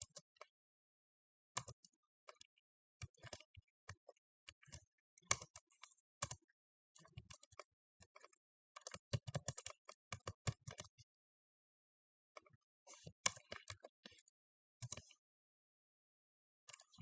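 Computer keyboard typed on in bursts of quick, close key clicks with short pauses between runs, quiet and alone, while Python code is written.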